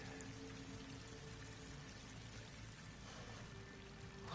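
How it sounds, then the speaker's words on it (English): Water pouring steadily into a pit in the video game Horizon Forbidden West, a faint, continuous splashing rush that swells slightly at the end, with no voices. "Water's coming in."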